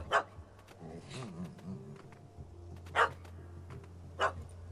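A puppy barks in The Witcher 3: Hearts of Stone, three sharp separate barks spread across the moment, while a character's voice murmurs between them.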